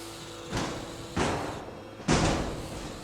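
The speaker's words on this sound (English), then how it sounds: "hitting it with a hammer saw, trying to get any of those innards that are quite close to the outside of the chassis" A combat robot's hammer saw strikes an opponent's chassis in an arena, three heavy metallic thuds spaced about a second apart, each with a short ringing decay.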